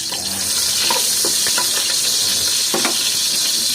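Garlic sautéing in a pan as cooking begins, a loud continuous hissing sizzle with a few stirring clinks and scrapes, heard close with no voices.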